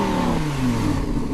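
A 2016 Lamborghini Huracan with a 5.2-liter V10 of 580 horsepower revs loud and close. Its engine note sweeps steadily downward in pitch through a brief rasping burst.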